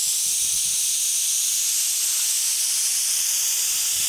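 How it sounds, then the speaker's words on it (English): An air-powered ratchet pipe wrench for turning well pipe runs with a constant loud, bright hiss of compressed air, steady and unbroken throughout. "is an air ratchet pipe wrench returning well pipe without using pipe wrenches."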